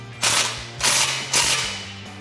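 A 15 mm wrench snugs the clamp bolt on a 2021-2022 Bronco MRT King of the Hill axle-back exhaust turn-down tip, giving three quick, close ratcheting bursts in an even rhythm.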